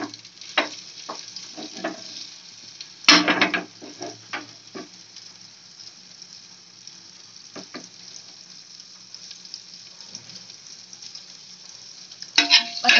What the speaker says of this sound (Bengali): বাটারটা একটু মেল্ট করে নেবো।